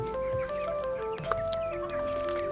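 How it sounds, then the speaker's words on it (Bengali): Broiler chickens on a poultry farm cluck and chatter continuously, many birds overlapping close by in a steady, busy flock sound with no talking. "এখানকার মুরগিগুলো দেখতে পাচ্ছি মোটামুটি ইকুয়াল সাইজের"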